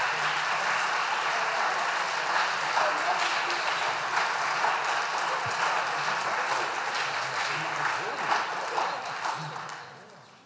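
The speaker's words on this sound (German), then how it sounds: "für die Moderation nochmal ein ganz dicker Applaus" Audience applause after a panel discussion at an anniversary event for the Élysée Treaty, sustained dense clapping lasting about ten seconds with faint voices mixed in, tapering off at the end.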